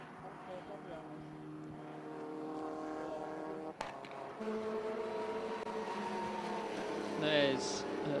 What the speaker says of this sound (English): There's the BMW making its way through.